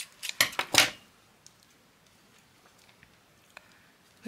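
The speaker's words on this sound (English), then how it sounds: "I'm going to cut that down." Scissors cutting paper close up, with a quick burst of several snips near the start followed by faint, sparse clicks and handling sounds, with no talking.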